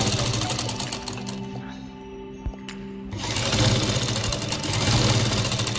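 A sewing machine stitches fabric for a baby kurta jacket, its steady rapid mechanical whir running loud and close, dipping into a brief slower pause midway before speeding up again.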